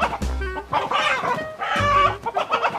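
A rooster crows loudly and close by, two long drawn-out calls in a row with harmonic, wavering pitch, followed by shorter clucks.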